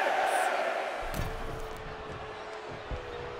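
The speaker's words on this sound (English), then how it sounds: "He's getting fired up now, really feeding off this crowd." An arena crowd roars throughout a WWE 2K23 wrestling match, a broad steady din with a couple of dull thuds from the ring beneath it.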